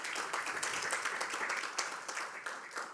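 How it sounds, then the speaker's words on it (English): Audience applause at an AI in clinical diagnostics conference, a steady wash of many hands clapping at close range that holds evenly for the full three seconds with no voices over it. "Maybe applause to Thomas."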